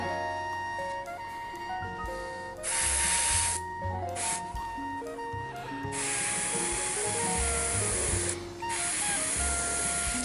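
A spray can sends paint onto a miniature in repeated hissing bursts of a few seconds each. Brief pauses separate the bursts, all close to the listener with no talking.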